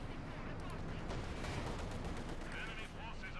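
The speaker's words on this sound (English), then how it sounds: "Bit more shooting there." Battlefield gunfire in Company of Heroes 2: steady machine-gun and rifle fire crackles at middle distance, dense and continuous, with a commentator talking over it.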